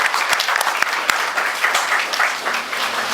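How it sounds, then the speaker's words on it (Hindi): An audience at a mental health day motivational seminar at JCD College in Sirsa claps in welcome, a dense, steady round of applause filling the room with sharp individual claps standing out. "इनके लिए एक बार जोरदार तालियों से इनका स्वागत करें"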